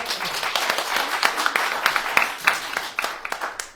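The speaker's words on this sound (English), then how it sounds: "A big round of applause for her." Audience applause at a West Bengal state cultural event, a small group clapping unevenly with sharp individual claps close by, loud and irregular rather than a uniform roar.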